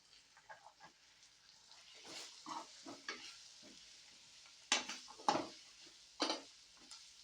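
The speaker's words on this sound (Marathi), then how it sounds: "तेलामध्ये एकजीव करायचे आहे आणि आता ह्या सगळ्या भाज्या घालून घ्यायच्या आहे." Vegetables for bhogichi bhaji, including pigeon peas, chickpeas, green peas and jujubes, are stirred in hot oil, with a soft sizzle broken by irregular scrapes and knocks of the spoon against the pan.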